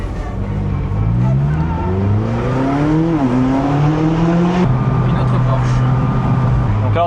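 Porsche car driving by, engine rising in pitch through the gears with a short drop at a shift, loud and near, then settling to a steady drone, with people talking over it.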